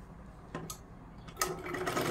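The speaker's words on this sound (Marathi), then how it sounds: "आता इथे आपल्याला शिलाई मारून घ्यायची आहे एकदम कडेला" A sewing machine runs in two short bursts while stitching piping along the very edge of a blouse, the second burst longer and steadier, fairly faint and with no talk.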